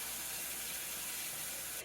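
A hot cast iron pan hisses steadily as it is cleaned after cooking a steak, a loud, continuous broadband spray-like sizzle and steam that runs unbroken and close.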